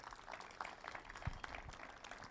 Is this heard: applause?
yes